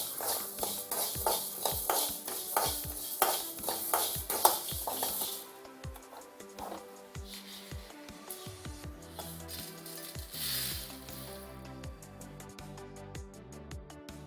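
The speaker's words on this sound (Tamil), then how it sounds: "முதல்ல மல்லி போட்டு வறுத்துக்கிறேன்" Coriander seeds dry-roasting on low heat in a small pan for rasam powder, a light dry rattle and scrape of seeds being stirred in quick irregular strokes, close but soft and without talk.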